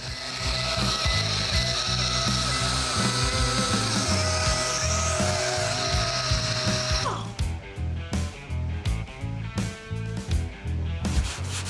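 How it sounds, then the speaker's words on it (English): A DA sander and red scuff pads work over a car body, giving a steady whirring, rubbing drone with an ongoing mechanical whine that turns choppier and more broken in the final seconds. "we'll be using both a DA and some red scuff pads"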